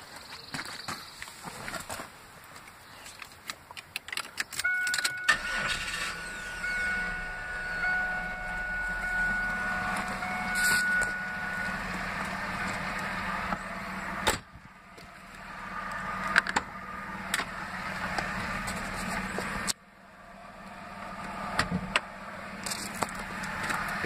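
A garage-kept Pontiac Firebird with a V6 engine cranks and catches after about five seconds, then idles steadily with a low hum and a thin whine, broken by a few clicks and brief dropouts.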